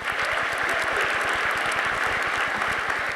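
An auditorium crowd at a senior honors night applauds steadily, dense continuous clapping from many hands that stays loud and even throughout.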